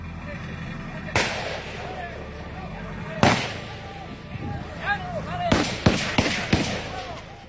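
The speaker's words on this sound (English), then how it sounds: "The officers engaged in gunfire with the suspect who ran from the scene after getting shot." Several sharp gunshots crack out during a police shootout with a gunman in Albuquerque, one isolated shot, another, then a rapid cluster of four or five near the end, all close and loud over background voices.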